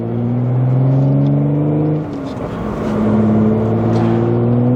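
A B8.5 Audi S5 with resonated test pipes revs loudly up close, its exhaust tone climbing smoothly, dipping briefly on a downshift, then rising again, deep and steady without rasp.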